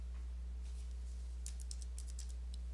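Light keystrokes on a computer keyboard, a handful of faint quick clicks in a short cluster over a steady low electrical hum, with no voice.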